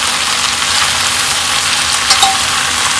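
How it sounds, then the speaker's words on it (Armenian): Carrots, mushrooms and meat frying together in a pan, a loud, dense, continuous sizzle and crackle close up, steady throughout with no voices. "այս ամենը միասին էլի տապակում ենք։"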